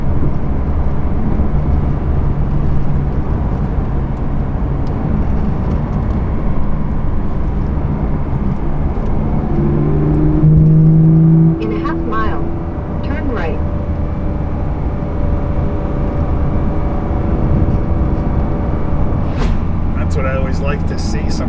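A rally car drives along a mountain road in the Smoky Mountains of North Georgia. A steady engine drone and tyre roar continue throughout, with a brief shift in engine tone partway through and a voice speaking over it.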